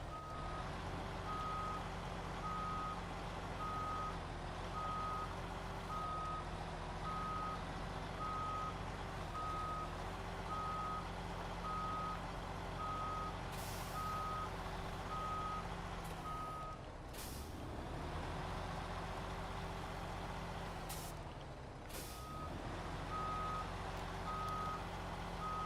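Kenworth truck in SnowRunner reversing, a low steady diesel engine drone with evenly spaced reversing beeps throughout, two sharp hisses of air brakes breaking in near the end.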